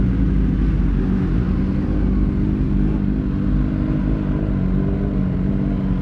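Superbikes including a Kawasaki ZX-10RR and BMW S1000RR ride along the Kolar highway, a dense, loud, continuous engine roar of several machines close by with rumbling revs throughout.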